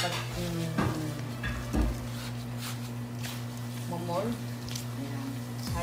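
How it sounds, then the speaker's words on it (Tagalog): A spoon stirring and mashing an imbutido meat mixture with breadcrumbs in a bowl, with soft squishing and scraping strokes and occasional clinks, close by, while people talk over it. "Halu-haluin natin."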